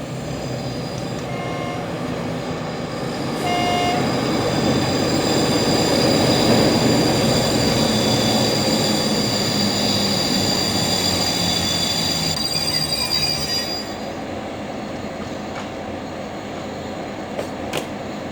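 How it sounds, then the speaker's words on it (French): A train on the Grenoble–Veynes Alpine line rolls into a station at about 30 km/h, with loud continuous rumble and sustained high-pitched wheel squeal that swells mid-passage, then eases as it slows. "à une vitesse de 30 km/h, notre train entre en gare"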